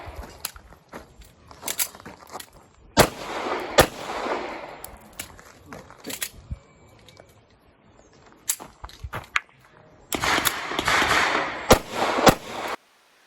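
A 9mm 1911 pistol fires at a shooting match, sharp gunshots cracking out singly and in quick pairs with gaps between, followed by a louder sustained burst of noise near the end.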